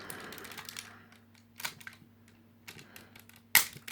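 Plastic landing gear folding up on an Energon Megatron Transformers toy, a handful of small, close clicks and clacks spread over a few seconds, ending in one sharper snap, with a faint steady hum underneath.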